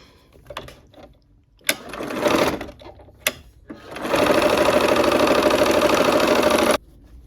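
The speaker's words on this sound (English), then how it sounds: "I'm gonna sew these units together" A sewing machine stitches quilt units together in a short burst and a few stops, then one long steady run of close, loud mechanical whirring that cuts off abruptly.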